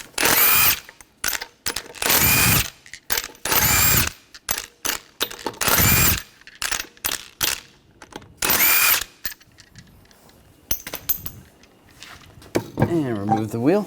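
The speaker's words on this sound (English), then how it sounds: "We're going to remove the lug nuts," A power tool spins the 19mm lug nuts off the front wheel of a 2013-2019 Ford Escape in a series of loud, sharp bursts roughly a second long, separated by short pauses, with a brief ratcheting whir near the end.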